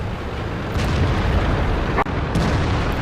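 A heavy tank gun fires in a video game, a loud deep boom with a sharp crack near the middle, set against a constant rumbling engine and battle backdrop.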